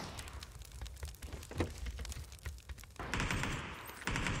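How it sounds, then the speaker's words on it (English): Rapid PUBG gunfire crackles in quick irregular bursts from more than one direction, some shots sharp and close, others thinner and farther off, with a louder stretch of sustained firing near the end and no talking. "they're like both shooting at us"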